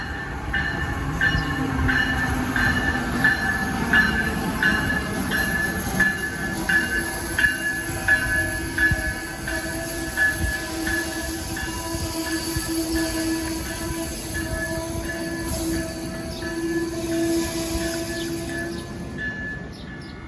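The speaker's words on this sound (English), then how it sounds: "ACS 64, number 664 at the lead of Amtrak train 112, Northeast Regional, northbound." An Amtrak Northeast Regional passenger train led by ACS-64 electric locomotive passes close by at Princeton Junction with steady rumbling, rhythmic wheel clatter and a high electric whine from the locomotive, lasting the whole time.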